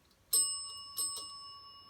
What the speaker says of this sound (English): If you answer yes, it could be one bell like that.